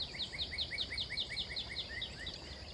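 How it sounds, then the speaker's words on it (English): A bird repeats a quick chirping phrase over and over, clear and fairly close, above a quiet outdoor background hum. "I hear crickets, birds."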